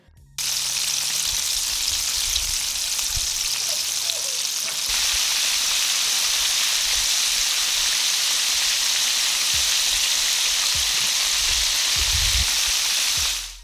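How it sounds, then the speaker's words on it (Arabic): Chicken pieces for zinger chicken frying in hot oil, a loud, steady crackling sizzle that starts abruptly and holds evenly throughout, with a few soft clinks and bumps underneath and no talking. "تأكدوا لما تحطوا الدجاج بالزيت إنه تنزلوه بعيد عنكم بهاي الطريقة"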